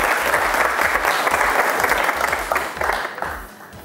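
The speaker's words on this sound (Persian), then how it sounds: "اردیشان را تشویق کنیم" A studio audience on a Persian-language Family Feud–style game show bursts into sustained applause, dense clapping with a steady low thump that fades slightly toward the end, without speech.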